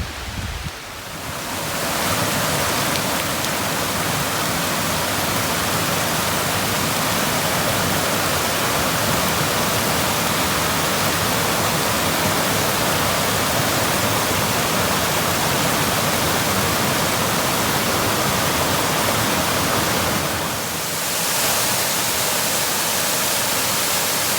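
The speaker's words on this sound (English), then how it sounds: "even with all this damn rain." Heavy rain pours at Kettle Creek Vista on the Loyalsock Trail, a dense, constant hiss that stays loud and steady for over twenty seconds, broken only by a brief dip near the end, with no voices.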